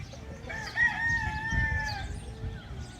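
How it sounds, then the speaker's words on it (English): Roosters on a farm crowing loudly and close, one long drawn-out crow carrying over a bed of low clucking and farmyard rumble. "Check out these roosters. They're really super cool."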